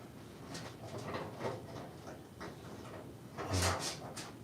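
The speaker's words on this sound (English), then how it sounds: "Something's scratching at the door." Something scratches at a door in a series of quiet, uneven scraping strokes, with a slightly louder cluster near the end. No voices are heard.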